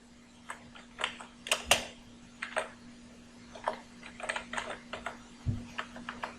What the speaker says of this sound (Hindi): मैंने अगेन अपने आइटम का नेम टाइप किया